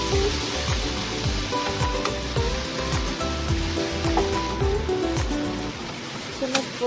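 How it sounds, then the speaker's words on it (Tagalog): Mushrooms stir-frying in oil in a pan, a continuous close sizzle broken by repeated scraping and tossing strokes, with a voice talking over it. "stir-fry mushroom for 30 seconds"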